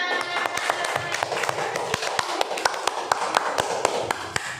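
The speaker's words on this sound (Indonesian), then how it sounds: "Tepuk tangan." Scattered, uneven hand claps from a small group in a classroom training session, sharp individual slaps coming at an irregular pace over a faint room background with no clear talk.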